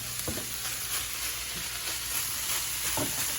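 Coleslaw mix stir-frying in a pan, a constant sizzle broken by a few soft scraping stirs, close and fairly quiet.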